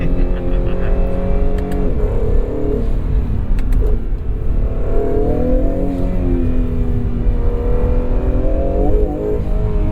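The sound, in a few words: Acura NSX Type S engine accelerating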